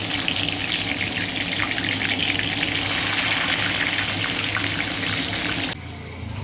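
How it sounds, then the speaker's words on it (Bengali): Eggplant pieces, coated in salt and turmeric, frying in oil in a pan: a dense, continuous hiss and crackle, loud and close, that drops abruptly near the end, with no talking. "এবার বেগুনগুলো ভেজে নেব।"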